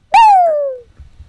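A single cooing bird sound effect from a French nursery rhyme, one clear descending call, loud and close, with nothing else around it.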